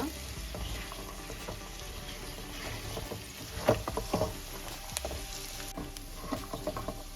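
Pressed ginger and spices frying in a pan with black chickpeas, stirred by hand: a quiet, close sizzle under scattered scraping and clinking of the spoon, busier toward the middle and end.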